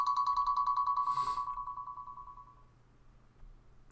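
A phone ringtone going off during a recording session, a fast pulsing electronic tone repeating steadily for about two and a half seconds before fading out, heard alone.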